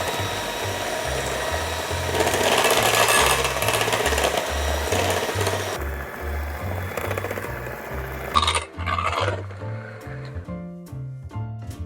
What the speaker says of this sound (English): I like to mix this with a hand mixer just until it's a little bit more fluffy